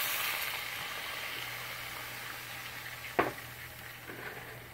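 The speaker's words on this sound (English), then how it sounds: "Now that our onions are clarified, we're going to add some beer." Beer poured into a hot pan of browned onions for a Reuben and pastrami sub, giving a steady broad sizzle with a brief splashy burst partway through, close and alone without talk.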